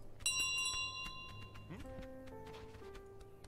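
Bell ringing in Untitled Goose Game, a bright metallic tone with ringing harmonics that fades out under loud, excited voiced commentary.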